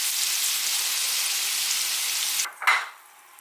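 Crab and shrimp sear in a hot skillet, a steady loud hiss of frying that cuts off abruptly near the end, followed by a brief scrape and stir of the pan.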